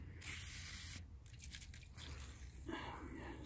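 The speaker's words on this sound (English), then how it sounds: "Spray it down real good." Bursts of aerosol cleaner spray hiss in short blasts onto car parts during rear wheel bearing work on a 2010 Hyundai Sonata, with quiet gaps between, close to the microphone.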